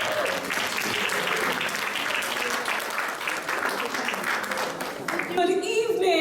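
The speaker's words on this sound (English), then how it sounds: "Please give her a round of applause as she comes up." An evening Black History Month event audience claps steadily as a speaker walks up, a dense, sustained round of applause. A voice rises over it near the end.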